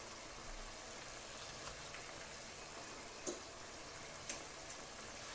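Carrots, asparagus and onion fry in a pan with a steady, quiet sizzle, broken by two brief utensil clinks, with no talking.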